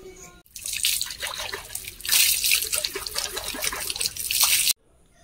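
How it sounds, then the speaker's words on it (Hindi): Water is poured over a copper utensil as it is washed, a close and fairly loud continuous splashing and trickling that stops abruptly near the end. "ताले चलंतु एबे पानी ढाली की भल भाबरे"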